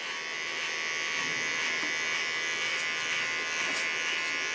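Electric hair clipper cleaning up a neckline during a haircut, a steady close buzzing hum running without a break.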